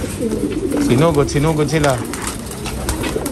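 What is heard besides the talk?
many pigeons in a pigeon loft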